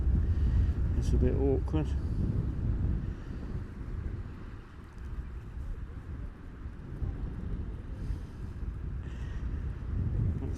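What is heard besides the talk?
breezy side wind on the shore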